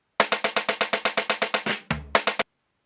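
A drum roll sample from the Essential Disco pack: a rapid even run of about a dozen bright snare hits, then a deep booming hit, a couple more quick hits and abrupt silence.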